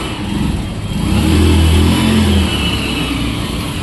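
A motorbike engine revs up close at a petrol pump, rising to a strong hum and then easing back to a steady idle.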